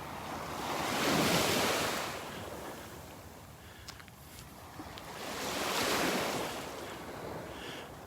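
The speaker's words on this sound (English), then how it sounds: "here I am once again walking the beach in beautiful North Naples, Florida" Ocean waves wash onto the beach at Vanderbilt Beach in North Naples, Florida, two broad swells of surf rising and fading over steady wind noise, with no talking.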